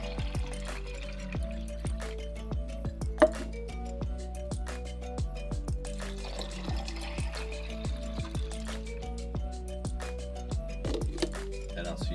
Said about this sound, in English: 2 cups of water as always.